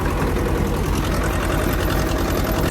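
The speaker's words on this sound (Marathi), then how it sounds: "रोटरचा एकदम स्मूथ चालतोय ट्रॅक्टर" A tractor pulling a rotavator through a field runs smoothly with a steady, loud, low engine drone and a continuous rumble throughout.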